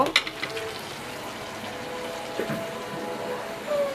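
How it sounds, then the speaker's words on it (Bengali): Prawns frying for bhuna in a pan, a soft steady sizzle with a few clinks of a utensil at the start, close by and moderately quiet. "আমি মেয়ের জন্য চিংড়ি মাছ ভুনা করতেছি"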